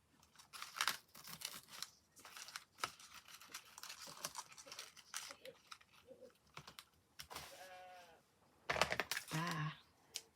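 Sheep bleat a couple of times, a few seconds apart, behind close crackling and tearing of paper and clicking as a gift bag is wrapped.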